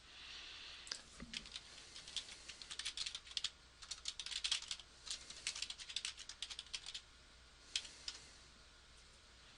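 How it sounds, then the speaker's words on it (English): Rapid, uneven keystrokes on a computer keyboard as someone types a brief response, clicking in close, light bursts with short pauses between runs of keys. "And I'm going to type in a brief response here"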